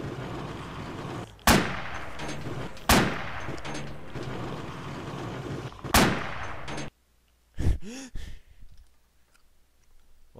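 Vehicle-mounted gun in ARMA 2 fires several loud, sharp shots spaced a second or two apart over rumbling background, followed by a sudden drop to near silence and a few scattered clicks.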